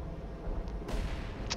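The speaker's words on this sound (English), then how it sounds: "now artillery assault's coming in to help finish them off" Artillery fire in the war game Company of Heroes 2, a deep rumbling barrage of heavy blasts with a sharper crack near the end, short and fairly loud.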